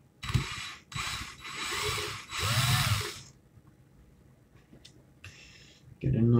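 A power drill spins in bursts while wrapping coil wire around a rod for a vape coil build, three short close whirring runs followed by quieter handling noises and a final brief burst.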